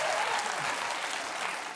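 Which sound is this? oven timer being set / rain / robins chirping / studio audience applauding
studio audience applauding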